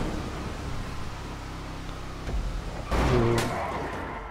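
Car drifting in GTA Online, a steady engine drone with a brief thump, then a louder swell of tire and engine noise near the end, no talk.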